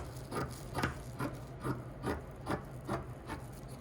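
Scissors cutting hoodie fabric just below pattern pieces laid out on a table, a steady series of about nine rhythmic rasping snips, close and moderately quiet, with no talking.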